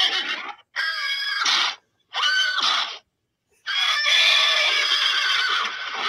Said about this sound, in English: Who did the horse sound?